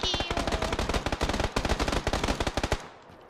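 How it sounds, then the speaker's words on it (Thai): Video game gunfire: rapid, loud automatic bursts crack out in a dense, steady rhythm for almost three seconds, then stop abruptly. "เฮ้ยมันยิงเราเหรอวะ"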